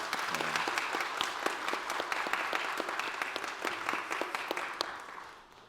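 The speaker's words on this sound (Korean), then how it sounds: "우리 하나님께 영광의 박수 한번 올립니다." A church congregation claps in praise during a New Year prayer meeting, a dense sustained round of applause with sharp individual claps standing out, fading toward the end.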